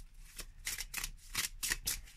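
A Baroque Tarot deck by La Muci Design is shuffled by hand, giving a quick series of about five crisp, papery riffle bursts close by, with short pauses between them.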